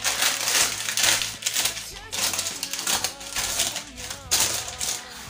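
Parchment paper for baking is handled and crinkled in a kitchen, giving repeated crisp rustling bursts at an irregular pace, close and fairly loud.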